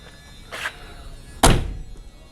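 A GMC motorhome door swings shut with a single loud, solid thump, preceded by a softer latch click, close up with no talking.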